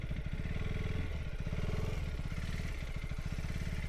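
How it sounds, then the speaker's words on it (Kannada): A motorcycle engine runs close up with a steady, rough throbbing chug and a slight dip and recovery in its pulse, loud and continuous with no talking. "ಬೈಕ್ ಮತ್ತೆ ಹಚ್ಚೋದು ಕಷ್ಟ ಆಗೈತಿ"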